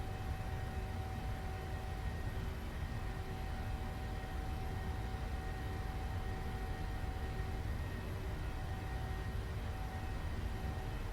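PMDG 737 jet engines spooled to takeoff thrust in a flight simulator, a steady faint broadband roar with a thin constant whine holding level throughout, no voices.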